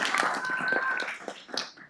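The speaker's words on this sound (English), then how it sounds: "Everyone give Archie a very big round of applause." A council meeting audience applauds a student, a close burst of many hands clapping that rises and then trails off within a couple of seconds.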